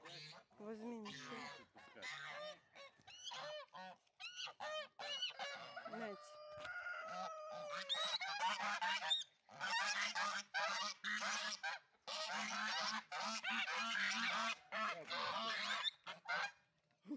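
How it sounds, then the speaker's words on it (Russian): A flock of domestic geese honks and cackles at close range while being fed cabbage, with repeated overlapping calls in irregular bursts and some quiet human voices mixed in. "Гуси"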